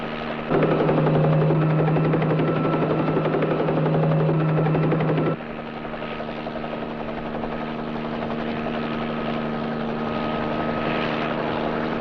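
A police helicopter circles overhead, its rotor and engine drone steady and loud for about five seconds before dropping to a softer, continuous hum as it moves off.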